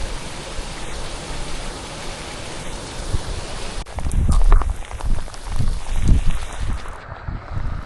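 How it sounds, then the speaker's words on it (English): Heavy rain shower on an open walking path beside the fast-flowing River Swale, a steady hiss that swells louder with thudding gusts partway through. "This is the heaviest shower I've had so far."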